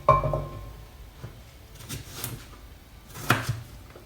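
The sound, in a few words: chopping pumpkin into chunks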